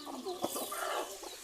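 Chickens inside a coop give short, overlapping clucks and squawks, close and fairly quiet, in a busy irregular rhythm over the brief span with no one speaking.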